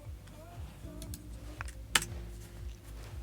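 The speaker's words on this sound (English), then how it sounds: "I can type directly into Claude Code, kind of like I would type into here" Typing on a computer keyboard, a handful of quiet key taps and one sharper click, fairly close and sparse over faint room hum; no talking.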